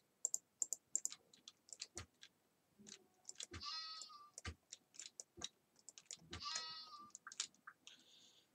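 Sheep bleating in the video game Keplerth, several short bleats standing out among scattered quick clicks and taps, fairly quiet overall.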